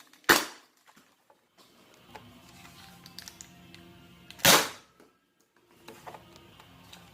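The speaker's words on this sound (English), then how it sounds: "Second modified Nerf gun." A modified Nerf gun fires two sharp, loud shots a few seconds apart. Soft mechanical clicks and handling noises fill the quiet between them.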